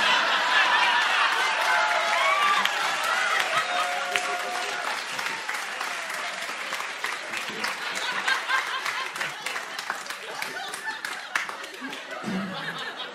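An audience at a live comedy tour show breaks into sustained applause, dense clapping mixed with scattered laughter and crowd murmur, gradually thinning out toward the end.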